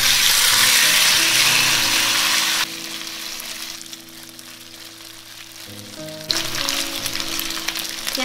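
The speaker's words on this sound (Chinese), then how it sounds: "把翅根倒进来，小火慢煎。" Chicken wing drumettes sizzle slowly over low heat in hot oil in a pan, a steady dense frying hiss that grows louder and brighter in bursts, heard alone without talk.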